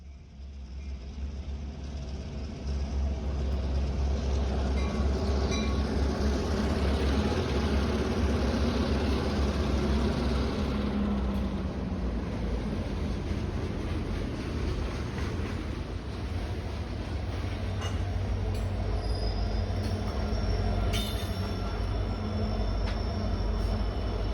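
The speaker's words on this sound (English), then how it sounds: "at all hours trains rumbled by, especially at night" Heavy, continuous rumble of a train rolling past in the Allegheny region, loud and steady for the whole stretch, with deep low roar and faint metallic squeals on top.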